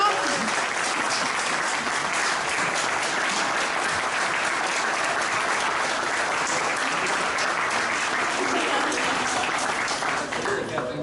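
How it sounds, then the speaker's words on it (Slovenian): A large audience applauds at an award ceremony of the 29th furniture fair, a dense, steady wash of clapping that stays loud and even for the whole stretch without a break. "Jaz mislim, da ste čisto premalo glasno zaploskali za največjo nagrado."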